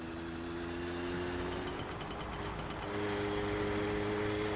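A small motorbike engine running in the video game My Summer Car 2, a steady droning hum that holds through and grows slightly louder toward the end.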